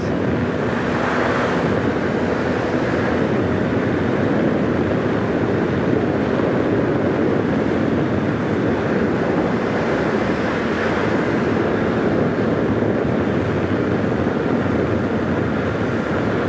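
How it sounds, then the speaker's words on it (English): Heavy wind buffeting roars around a rider on a 2024 Yamaha MT-09 naked motorcycle, a loud, continuous rushing blast that swells and eases slightly, with the engine buried beneath it and no voices. "Lots of wind though, as you would expect from a naked bike"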